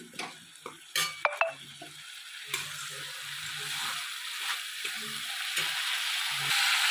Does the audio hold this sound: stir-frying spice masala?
yes